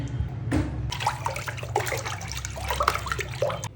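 Comfort fabric conditioner is poured into water for soaking clothes, a close liquid pour and splashing gurgle lasting a few seconds.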